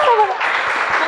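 Audience applause from a crowd at a gathering for local small-business owners in Karawang, a dense, steady clatter of many hands filling the short moment at close range.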